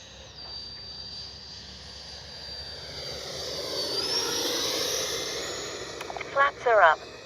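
A Freewing A-4 Skyhawk 80mm RC jet making a flyby with landing flaps and gear down, a whining turbine swelling as it approaches and passes overhead, followed by a few short bumps near the end.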